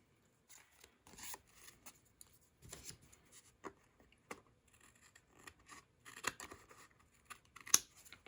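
Scissors trim a paper card at close range, short irregular snips with light rustling and scraping between them, growing louder near the end.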